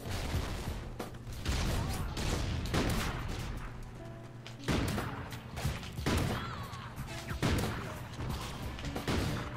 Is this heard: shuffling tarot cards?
no